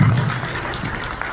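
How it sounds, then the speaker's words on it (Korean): An audience at a morning forum seminar applauds as a speaker is welcomed, a dense wash of clapping heard fairly close with some voices beneath it. "박수로 모시겠습니다"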